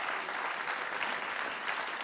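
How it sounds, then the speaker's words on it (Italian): A cabaret audience delivers a steady wash of clapping, an even, continuous burst of applause heard at a moderate distance. "fategli anche un applauso che... Zappalà!"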